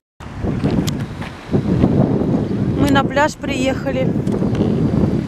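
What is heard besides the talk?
strong wind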